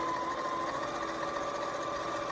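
A sewing machine stitches a snowman pot holder in a steady, close, continuous mechanical whir lasting a couple of seconds, with no voices.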